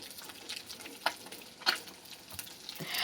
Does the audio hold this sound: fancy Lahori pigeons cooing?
no